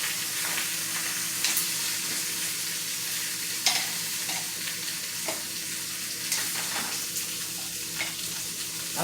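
Meat for birria sizzles and fries in a pot, a continuous close crackling hiss with small pops and occasional stirring scrapes.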